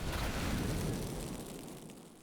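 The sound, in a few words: explosions in the video game Age of Wonders 4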